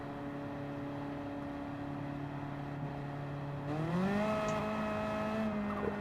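A Mini spins its wheels in a racing video game. A steady engine drone holds, then rises in pitch partway through as the revs climb and the tyres break loose, with no talk over it.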